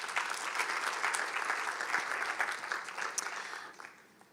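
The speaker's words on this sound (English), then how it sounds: "So I want a huge round of applause for our very special speakers." An audience at an East African regional health dialogue claps for the speakers in a dense, steady round of applause that fades toward the end.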